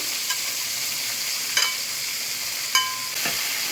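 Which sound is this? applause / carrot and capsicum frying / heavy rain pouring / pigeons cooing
carrot and capsicum frying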